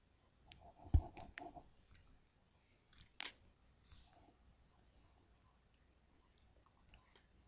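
Quiet, sparse clicks of a computer mouse on a desk, a few isolated taps and a double click spread across the stretch, close but faint with no talking.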